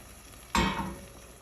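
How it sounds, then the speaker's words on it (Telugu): Milk poured into ridge gourd curry in a pan gives a sudden close gush that fades over about half a second, above a faint steady background hiss. "ఇప్పుడు పాలని ఇందులో పోసుకోవాలి."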